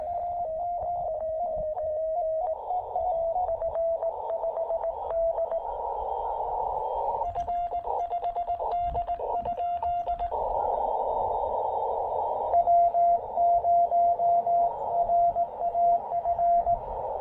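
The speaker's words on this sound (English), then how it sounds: "See, it sounds like one continuous tone." A steady, continuous radio tone from a Yaesu FT-817/818 QRP field transceiver tuned slightly off frequency hums on at one pitch, broken by faint static pulses and brief shifts in the surrounding noise.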